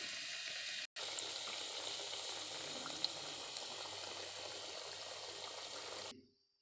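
Semolina sweets sizzle steadily in hot oil, a dense continuous frying hiss close by with a brief cut near the start, ending abruptly.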